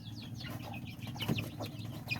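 Hens in a backyard flock clucking softly and repeatedly, a close, busy chatter of fowl sounds over a steady low rumble of background noise, with no speech.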